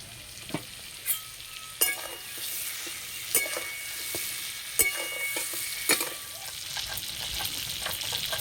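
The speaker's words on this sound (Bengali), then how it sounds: "চাপাটা খুলে পটলটা নেড়ে দেব।" Pointed gourd stirred in a pan after the lid comes off: a constant bright sizzle with intermittent scraping strokes of a spatula, close up and alone without speech.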